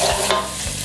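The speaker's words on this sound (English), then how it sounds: "Give that a gentle stir to make sure that all that onion gets in there" Onions are stirred in a frying pan for a Cameroonian garden egg stew, with a brief close scrape of the utensil over steady loud sizzling that fills the whole short clip.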